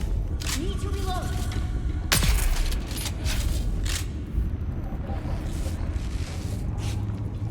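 Gunfire in the video game Dune: Awakening: a single sharp, loud shot cracks out about two seconds in over a steady bed of in-game ambience and rumble, with a few fainter impacts around it.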